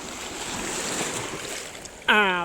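Sea waves wash onto a beach in a steady, broad rushing wash with wind on the microphone, ending in a brief tonal sound near the end.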